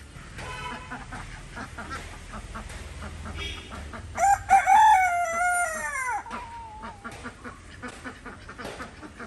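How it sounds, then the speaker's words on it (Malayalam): A rooster crows once loudly and close by, its call rising then trailing off, amid clucking and other poultry sounds in the background. "പൂവൻകോഴി"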